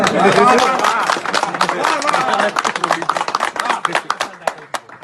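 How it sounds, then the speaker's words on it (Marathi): A crowd at a Maharashtra political event breaks into clapping on a call to applaud, with dense overlapping claps mixed with voices that thin out into scattered individual claps over a few seconds. "टाळ्या वाजवा रे सगळे"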